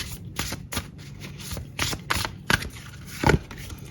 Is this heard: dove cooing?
no